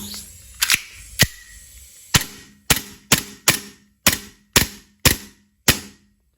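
Gas-powered BB pistol that leaks gas, test-fired in about ten sharp cracking shots at a quick but uneven pace, loud and close, with a short spoken moment before the shooting starts.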